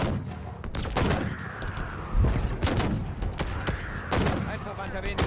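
Bursts of rifle and automatic gunfire from Halo Infinite gameplay, sharp repeated shots in irregular clusters with booming impacts, heard alongside someone talking.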